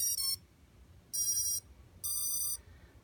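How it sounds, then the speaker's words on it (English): Drone motor ESCs beep on power-up with the rotors off: three short, bright electronic tone bursts in sequence, each a stacked chime-like pattern, close and clean against a quiet background. "I think that's all the ESCs beeping happily"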